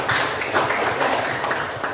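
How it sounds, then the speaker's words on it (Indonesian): Classroom applause for a student named Salwa, a dense, steady patter of many hands clapping through the whole stretch, fairly loud and close, with no voices over it. "tepuk tangan untuk Salwa ya"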